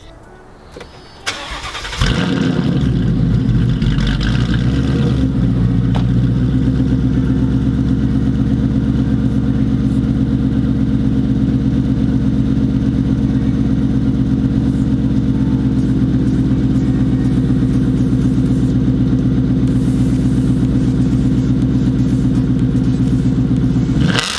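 A 2015 Ford Mustang GT V8 fitted with a WOT Box launch-control 2-step cranks and fires up, then holds a loud, steady, raised rumble close by for over twenty seconds with no voices.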